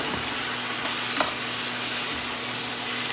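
Mushrooms sizzle steadily in a hot pan with ginger, garlic and onion, a loud continuous frying hiss with a brief clack of stirring partway through.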